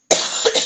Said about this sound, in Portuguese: E a tosse vindo.